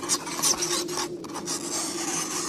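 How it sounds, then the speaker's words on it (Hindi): Fingernails scratching and rasping against a window pane, a steady close scraping that rises and falls in quick strokes for a couple of seconds. "बाहर खिड़की को कोई नाखून से खरोच रहा है"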